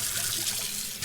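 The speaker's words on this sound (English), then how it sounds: "Listen to the rinse sound effect." Short steady hiss of water spraying and running from a water pick during a rinse, close and continuous, like a tap running into a sink.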